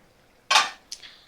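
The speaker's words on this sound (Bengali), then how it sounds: "দেখো আমি ঢাকাটা খুলে নিলাম" A metal lid lifts off a cooking pot of frying fritters on a medium flame: one bright clanking scrape followed by a softer, shorter clink, both close and clear over near silence.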